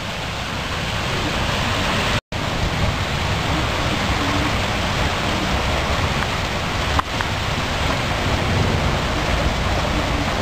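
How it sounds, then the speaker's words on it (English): Heavy rainwater pours and splashes steadily from a gutter during an Iowa storm, a loud constant rushing, briefly cutting out once. "there's the rain coming out of the gutter."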